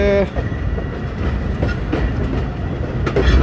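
The Jaffar Express runs on the rails of a foggy winter route between Attock and Domeli, with a loud, steady rumble and rhythmic clickety-clack of wheels heard close from on board.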